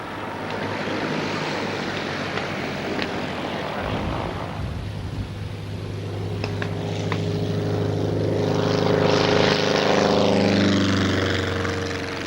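A propeller aircraft taxis toward the runway holding point at an airfield, its steady engine drone loud and broad, swelling and shifting in pitch as it moves nearby.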